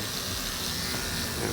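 A serviced electric hair clipper runs steadily and smoothly, a continuous close buzz with no breaks or other sounds.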